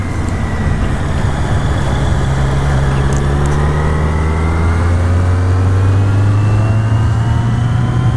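A Kawasaki Z motorcycle engine drones loud and close while riding, its pitch rising steadily as it revs up through the gears, with constant wind and road noise.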